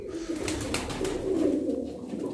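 Domestic pigeons coo softly and continuously among a loft of fancy birds, a steady low murmur of several birds close by with no talk.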